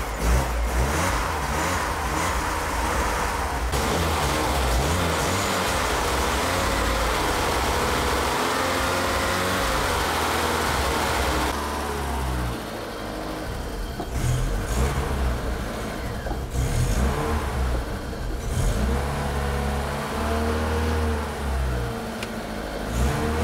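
A barn-find BMW E30 engine, just started after a balky starter, idles and revs up repeatedly, loud and close with a steady mechanical drone that rises and settles before easing to a lower idle.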